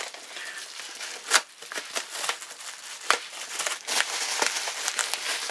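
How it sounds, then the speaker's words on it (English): Cardboard and plastic packaging around a Bose Wave System III radio being cut and pulled open, with steady close crinkling and rustling and a few sharper tearing bursts. "I'm just gonna cut my way in here"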